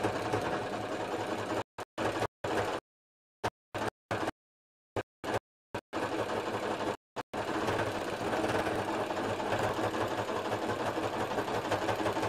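A sewing machine labors as it stitches through many thick quilt layers, a steady loud mechanical whir broken by several short stops and restarts partway through, with no talking.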